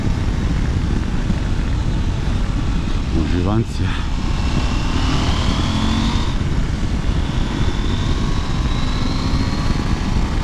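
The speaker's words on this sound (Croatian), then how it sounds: "A motor ide ko blesav." A Norden motorcycle's engine drones steadily while riding, with a constant roar of wind over it and a brief rising-falling whine partway through; a rider speaks briefly over the noise.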